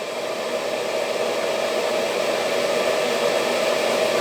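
A small dust extraction tool sucks up balsa wood dust, giving a steady, close whooshing suction drone with a constant pitch and no talk over it.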